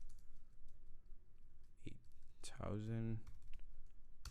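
Computer keyboard typing, a run of soft, quick key clicks spread through the clip with someone speaking briefly over them.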